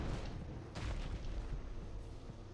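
A dragon breathing fire during a Dark Souls II boss fight in Aldia's Keep, a faint, low rumbling roar with soft booms, swelling around the middle and fading, heard at a distance.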